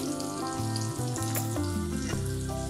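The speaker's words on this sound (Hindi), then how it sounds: "आप इसको स्लो फ्लेम पर ही फ्राई करेंगे क्योंकि हम शैलो फ्राई कर रहे हैं, डीप फ्राई नहीं कर रहे" Shallow frying over a slow flame, a steady close sizzle of oil in a pan that runs without a break beneath a tonal musical background.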